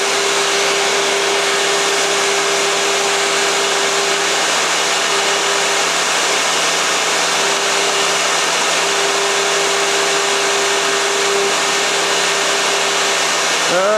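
A scratch-built miniature CNC mill modeled on a Fadal VMC 15 runs its spindle while cutting, a loud, steady motor whir with a constant tonal hum, continuous and close, shifting pitch briefly at the very end.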